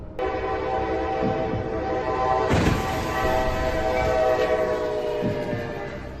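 A locomotive rolls past at a rail crossing with its horn blaring in a long steady tone over the loud rumble of the train, the horn swelling midway and holding throughout.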